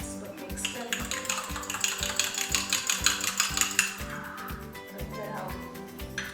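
Milk powder gulab jamun dough with cream or ghee is mixed in a bowl, making steady rhythmic knocks and scrapes about twice a second over background music.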